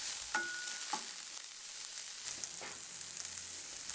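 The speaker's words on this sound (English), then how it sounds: "once you add the onions, simply turn down the heat to prevent the onions from taking on any color. Continue to cook and stir until the onions become somewhat translucent" Onions sweating over low heat in a pan while being stirred, giving a faint soft sizzle with a few light clinks and scrapes from the stirring.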